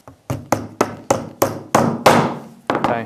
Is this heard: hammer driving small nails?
yes